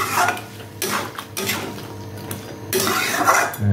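Crab curry stirred in a pot with a metal utensil, giving repeated scraping clatters at a steady stirring rhythm, close and fairly loud, with no talking.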